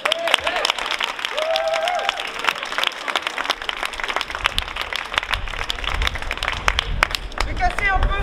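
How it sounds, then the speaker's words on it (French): Applause and clapping from an audience at the occupied La Monnaie opera house in Brussels fill the whole stretch, steady and fairly loud, with a voice briefly audible near the start and end. "Bien, applaudis."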